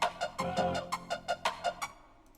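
A sampled melody chop plays a quick run of about nine rhythmic plucked notes, moderately quiet, ending with a faint tail.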